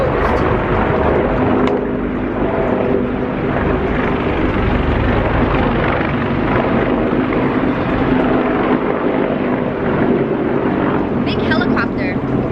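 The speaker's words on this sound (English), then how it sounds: "Big helicopter." A large helicopter passes overhead outdoors in Los Angeles, its loud, steady rotor rumble filling the background while a person talks over it; airplanes also fly over in formation.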